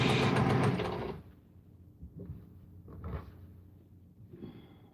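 A sewing machine runs in a fast steady whir while stitching sashing onto a quilt wall hanging, then stops, followed by a few short mechanical clicks and shuffles nearby.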